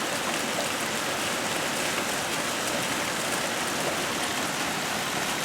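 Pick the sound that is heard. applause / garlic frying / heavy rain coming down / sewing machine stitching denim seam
heavy rain coming down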